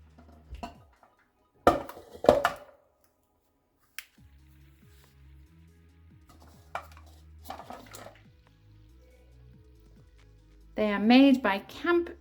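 Nesting melamine bowls from a set of four, made by Camp Casual, clinking and knocking as they are handled in a few sharp separate bursts, with a person talking in between.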